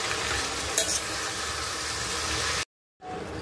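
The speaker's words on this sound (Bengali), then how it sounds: "চিকেনটা কষাচ্ছি।" Chicken sautéed in a pan and stirred, a close, dense sizzle with scraping stirs that stops abruptly for a moment before resuming.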